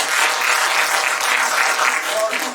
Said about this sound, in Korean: 여러분 박수 한번 주시고 가요